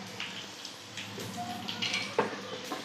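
Green vegetables sizzle in a hot pan as asafoetida is added, with a steady close frying hiss broken by light stirring scrapes and a brief metallic clink.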